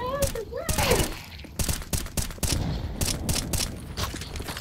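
Counter-Strike 2 gunfire crackles in a string of sharp, uneven shots and thuds, mixed with game sound effects, while a player's voice exclaims over them.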